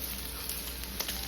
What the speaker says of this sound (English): I just lay them in here in this hot skillet